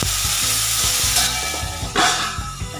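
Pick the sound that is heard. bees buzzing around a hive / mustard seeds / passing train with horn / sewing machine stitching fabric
mustard seeds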